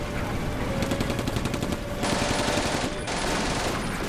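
Machine guns in Combat Mission: Afrika Corps fire in rapid sustained bursts, dense rattling fusillade with overlapping shots, loud and continuous with a short pause near the end.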